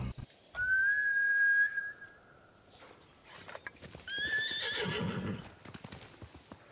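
Samurai horse in the video game Ghost of Tsushima gives a loud, high whinny lasting about a second, followed by a second fainter neigh and clip-clopping hooves over a low background rumble.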